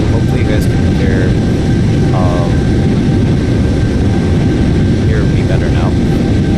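Jet airliner engines in Microsoft Flight Simulator 2024, a Flyadeal flight from Karachi to Jeddah, drone as a loud, steady roar with a faint tonal whine, filling the whole stretch without pause.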